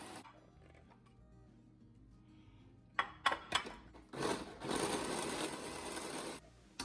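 A meat grinder works scraps of brisket into burger meat: a quiet stretch and a few sharp clunks, then a steady, dense whirring grind for about two seconds before it cuts off.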